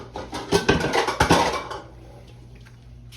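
A bowl being pulled out in a kitchen, with dishes clattering and knocking together in a quick burst of sharp clinks up close, then quieting down.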